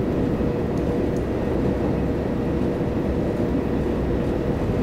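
A fast non-stopping service rushes past a station in Train Simulator 2018 on a Brighton to Cambridge route, giving a loud, continuous low rumble and roar that holds steady throughout, with no talking.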